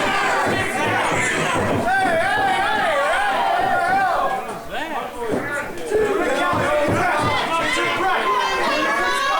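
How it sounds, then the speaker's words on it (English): A fight-event crowd roars and chatters loudly, an excited mass of voices swelling and dipping with scattered shouts, while a commentator talks over the din. "Crowd getting fired up."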